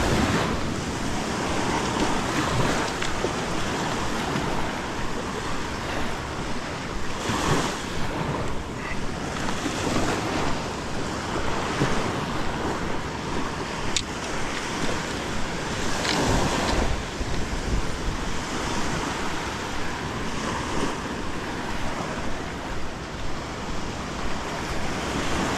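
Ocean surf breaks on Virginia Beach at low tide at twilight, a continuous broad roar with swelling wave surges and gusty wind buffeting the microphone, with no voices.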